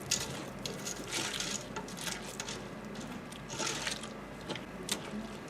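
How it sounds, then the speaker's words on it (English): A bubble bath powder mixture being stirred, making a continuous close gritty scraping and crunching with soft irregular pattering, fairly quiet and steady throughout with no talk. "give this a little bit of a stir"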